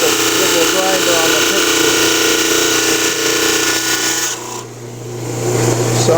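A lapidary saw trims the edges of a stone with a loud, steady whine and grinding rasp. The drone briefly dips and thins about two-thirds of the way through, then builds back to full strength.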